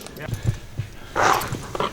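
A police dog barks a few short, loud times during a tracking workshop held as part of a safety week, with people talking and shouting commands around it.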